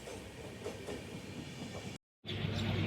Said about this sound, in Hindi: तो भाई फाइनली ट्रेन शुरू हो गई है